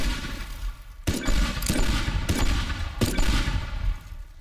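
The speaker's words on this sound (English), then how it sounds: "you can shoot the barrels and it gives you points" Gunfire in the video game Teardown hits barrels, four sharp shot bursts roughly half a second to a second apart over a constant rumbling noise bed, loud and close with no talking.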